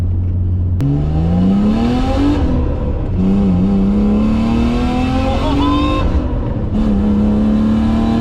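A loud turbocharged vintage car engine revs up hard through the gears, pitch climbing steeply, dropping briefly at each shift, then rising again.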